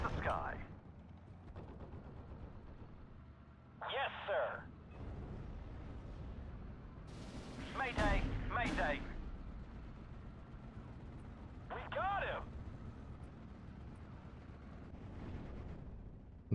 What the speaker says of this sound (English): Maybe it's time for a bombing strike.